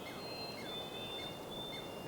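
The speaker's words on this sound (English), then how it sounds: "I hear a squirrel" Faint birds call in a Sierra Nevada forest, with thin whistled chirps and short sweeping notes over a quiet, hissy outdoor background.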